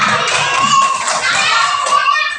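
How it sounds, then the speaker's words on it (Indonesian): Children in an Indonesian classroom clap for a classmate, a rapid, lively patter of small hands mixed with excited young voices chattering over it. "tepuk tangan buat Ica"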